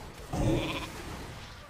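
One short sheep bleat from a World of Warcraft polymorph spell in arena combat rings out over a busy background hum, a quick wavering cry.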